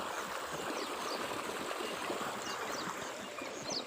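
Irrigation water rushes and gurgles steadily and continuously through a farm field, close by and fairly loud, with no voices.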